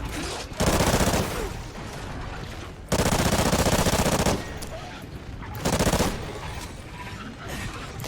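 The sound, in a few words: gunfire in Call of Duty video game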